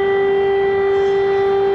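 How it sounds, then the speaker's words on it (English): An air raid siren wails through the streets of Kyiv in a steady, sustained tone, loud and unbroken throughout, with a faint low rumble beneath. "The sirens heard throughout the streets of Kiev as Vladimir Putin declares war on Ukraine"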